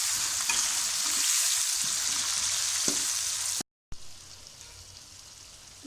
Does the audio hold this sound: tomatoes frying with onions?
yes